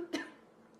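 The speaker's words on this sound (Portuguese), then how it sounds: "se engasgou, pode tossir, não tem problema, faz parte" A woman coughs once, short and fairly faint, after choking during a tabletop game of Quadropolis. Only quiet room tone follows.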